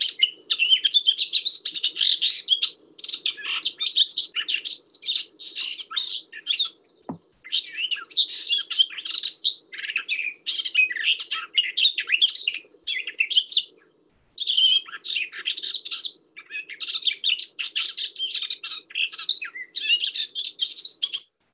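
A garden warbler sings a long, rich, fast-running warble in extended phrases with only brief pauses, clear and fairly close, with no voices.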